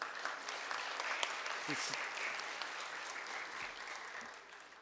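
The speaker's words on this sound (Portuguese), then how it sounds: "uma salva de palmas para o presidente da OAB do Rio de Janeiro" Audience applause for the president of the OAB Rio de Janeiro at a solemn session, steady and continuous clapping from a seated crowd, filling the hall at moderate level for several seconds with a voice briefly heard over it.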